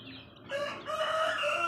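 Chickens, roosters and chicks call close by: soft clucking gives way to a loud, drawn-out rooster crow that fills most of the brief moment.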